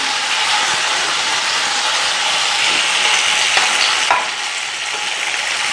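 Marinated chicken for shashlik sizzles loudly in hot oil in a pan, a steady close crackling hiss with faint scraping.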